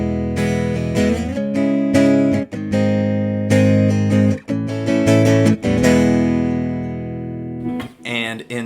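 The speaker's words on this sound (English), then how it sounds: "In the A path, we have this really cool acoustic sound." Acoustic guitar tone from a Line 6 HX Stomp acoustic simulation, strummed chords ringing loud and close with repeated strokes over several seconds, ending in a few lighter plucked notes.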